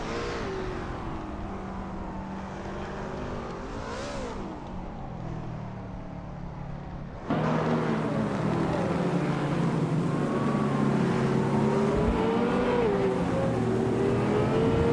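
Race car engines in a racing game drone and rev continuously, and a sharp jump in engine roar about halfway through marks cars accelerating hard side by side.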